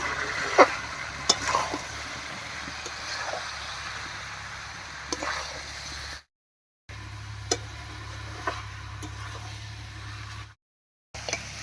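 Chicken with mushrooms, green chillies and garam masala paste stirred and fried in a pan: soft scraping stirs and occasional clicks over a quiet sizzle, broken by two short silent gaps, with no talking.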